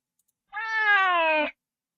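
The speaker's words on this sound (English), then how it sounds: "That didn't sound like a healthy cat meow." A single drawn-out, wavering cat meow from a horror video game, sounding strained and unhealthy, rings out clearly for about a second against silence.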